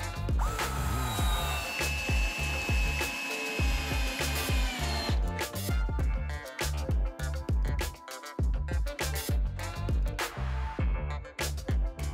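Screws driven in with a power drill to fix a dust collection bin to the raised edge of a wooden workbench: repeated whining bursts of the drill motor ramping up and stopping, with short pauses between screws, close and loud.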